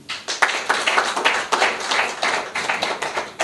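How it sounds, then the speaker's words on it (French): Audience clapping at a political gathering, many hands beating in a dense, steady patter at moderate distance, with no speech over it. "Nous pouvons applaudir."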